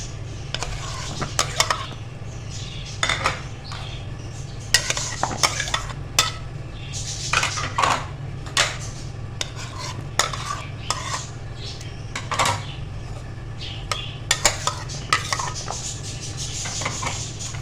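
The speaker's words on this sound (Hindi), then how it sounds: "अब इसमें फ्रूट्स ऐड करेंगे" Fruit being tipped into a bowl of cream chaat and stirred in, with repeated clinks and scrapes of a spoon against the dish over a steady low hum, close and fairly loud, with no talking.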